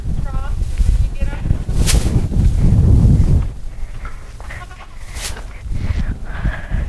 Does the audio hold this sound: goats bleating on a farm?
yes